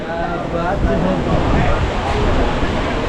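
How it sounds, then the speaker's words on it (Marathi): A monsoon waterfall and river at Marleshwar in Konkan give a loud, continuous broadband roar of rushing water with no break, and a voice talks over it. "समोर अप्रतिम असा धबधबा"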